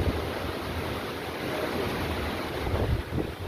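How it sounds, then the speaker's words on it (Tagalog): Strong typhoon wind from Typhoon Odette in Ubay, Bohol roars steadily and loudly across the microphone, a dense continuous rush with gusting swells and no talk. "Ito hangin"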